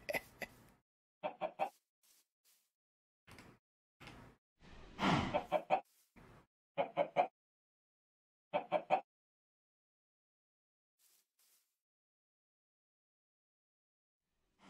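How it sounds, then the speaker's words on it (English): Minecraft chicken clucks in short separate bursts, several brief close calls with gaps of quiet between them and a longer squawk near the middle, with no talking. "Where's that chicken?"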